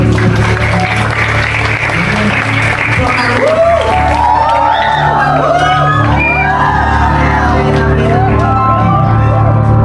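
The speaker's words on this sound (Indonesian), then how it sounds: "Tepuk tangan mulia." Audience at a school Christmas celebration (PBJHS 2024) applauds and cheers, with steady dense clapping, loud whoops and shouts rising over it, close and sustained throughout.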